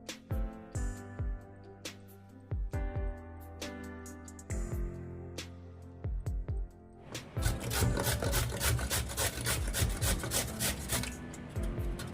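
A peeled, rinsed carrot is rubbed against a grater in firm rhythmic rasping strokes, first spaced with brief pauses and then a fast, dense, continuous scraping run, loud and close.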